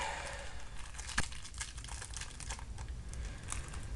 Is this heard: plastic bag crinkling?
yes